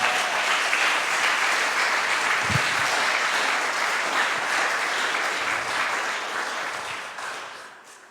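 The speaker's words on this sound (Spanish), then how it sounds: "Dale un aplauso si le vas a dar al Señor." A church congregation claps during a Spanish-language sermon, loud dense applause filling the room and holding steady before tapering off toward the end.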